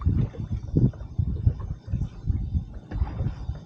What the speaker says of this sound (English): It's nice and breezy right now.